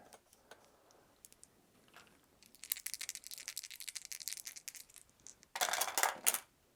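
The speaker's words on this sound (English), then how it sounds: "we'll be able to roll 3 dice for the test" Three dice rolled during a Shadows of Brimstone board game test: scattered light clicks, then a loud clattering burst of tumbling dice, a brief pause and a final sharp rattle as they settle, close up with no talking.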